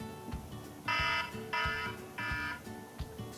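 A two-minute kitchen timer goes off with three loud, evenly spaced electronic beeps, each about a third of a second long, over a low background rumble and occasional knocks.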